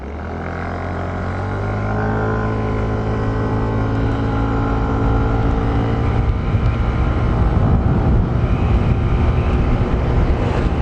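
A 2026 Yamaha Mio Gravis version 2 scooter accelerates at full throttle, its engine hum climbing steadily in pitch and loudness into a sustained, rough high-revving drone with wind noise, close and continuous, with no talking.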